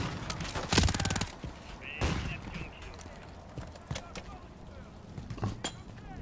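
Gunfire in Call of Duty: Modern Warfare III, with scattered sharp shots and a brief rapid burst heard faintly over low background game ambience.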